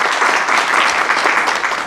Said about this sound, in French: Madame, on vous applaudit.